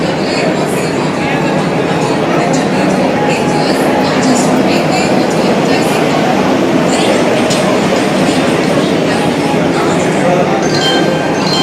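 A Vande Bharat express train rumbles and clatters loudly and continuously through Karur, with wheels clacking and metallic clinks, while voices murmur faintly in the background.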